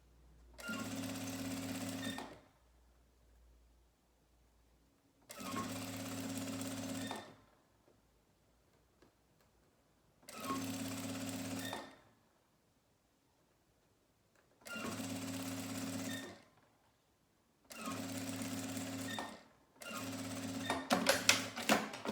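A sewing machine stitches fabric for a manicure nail polish pouch, running in five separate loud whirring bursts of about two seconds each with short pauses between, and the final burst ends in rapid clatter.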